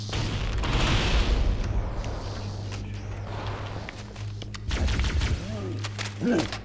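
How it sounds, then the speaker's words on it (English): Rumbling booms and crackling blasts roll through in a chain of explosions in Halo 1, with scattered sharp impacts and gunfire-like pops. "Oh boy, chain explosion!"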